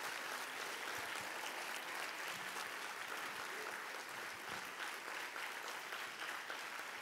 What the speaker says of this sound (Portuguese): Quantos podem aplaudir ao Senhor pela palavra dele?